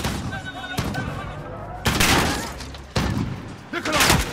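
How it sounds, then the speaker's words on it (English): Loud gunfire in Call of Duty: Modern Warfare bursts in a few heavy volleys with booming impacts, close and harsh, with shouting voices mixed in. "The gunshots, of course."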